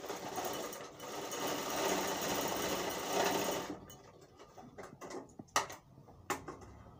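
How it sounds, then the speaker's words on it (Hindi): A sewing machine runs steadily for almost four seconds while stitching a kalidar kurta, then stops, leaving a few sharp clicks and knocks of fabric and machine handling. "दूसरा पल्ला को भी हम इसी तरह बैठा के सिलाई मार लेंगे"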